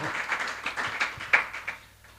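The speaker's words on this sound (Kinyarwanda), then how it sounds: "Let's clap for them." An audience at a church service claps in brief, dense applause that fades out within about two seconds.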